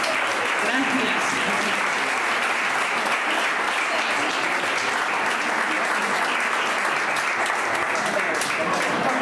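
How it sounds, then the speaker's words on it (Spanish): Steady, dense audience applause at a town festival event in Marcilla, a large crowd clapping continuously and evenly at moderate loudness for several seconds without letting up. "un fuerte aplauso para Unai Goñi"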